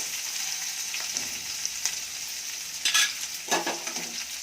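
Green chilli pieces, curry leaves and onion pieces fry in a pan with a steady bright sizzle, broken by a few stirring scrapes and louder spurts toward the end, with no talking.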